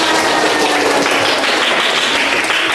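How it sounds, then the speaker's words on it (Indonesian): A classroom of students claps hands together in a loud, dense burst of applause lasting several seconds, close and continuous with no one speaking. "Tepuk satu, tepuk tiga. Tepuk tangan."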